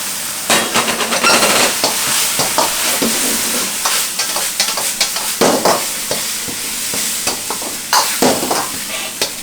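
Egg, minced meat and Chinese chives are stir-fried in a frying pan with a loud, steady sizzle and repeated scraping and tossing strokes, close and dominant with no talk.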